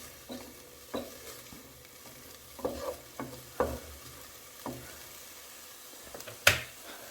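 Sliced courgettes for a quiche sizzle in a frying pan under a low steady hiss, broken by about eight distinct scraping stirs at irregular intervals and one sharper clatter near the end; no one speaks.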